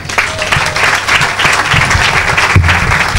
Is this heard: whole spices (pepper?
no